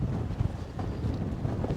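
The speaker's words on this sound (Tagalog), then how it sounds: "Pero malakas ang hangin" Strong wind buffets the microphone on a fishing pier at Rhyll, Phillip Island, a steady low roaring rumble with gusty bumps throughout and no voices.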